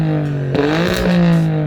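An Alfa Romeo engine revs up close, a loud steady drone that surges sharply in pitch midway and then settles back to a strong idle-like hum.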